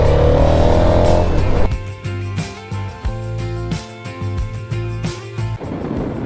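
A motorcycle heads north along Highway 12 through Montana, its engine droning close and loud with a shifting pitch as it changes gear, plus steady road and wind rush.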